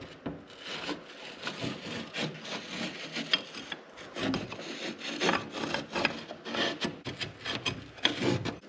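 Pencil scratching and rubbing along the edges of stones as it traces their outlines onto plasterboard, a close, steady dry scraping with irregular strokes and no voices.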